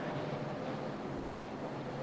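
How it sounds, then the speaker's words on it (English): Wind blowing outdoors, a continuous broadband rush buffeting the microphone at a steady level throughout, with no talk. "It's windy."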